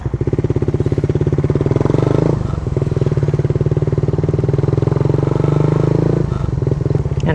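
Raider 150 Fi motorcycle fitted with a Red Leo power pipe riding along at low RPM, a steady loud throbbing exhaust drone with a brief dip in engine note around the middle and again near the end.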